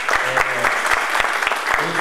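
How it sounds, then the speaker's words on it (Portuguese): Applause at a cooperative accounting and legal event in Brazil, an audience clapping loudly and steadily with distinct rhythmic claps standing out and a voice sounding over it. "você merece uma salva de palmas"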